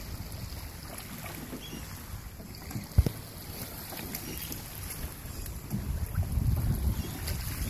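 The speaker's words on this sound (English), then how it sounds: "some big old waves coming in here." Large boat wake waves slosh and slap against a dock beside a moored boat under steady wind noise, with one sharp knock midway and the surge building toward the end.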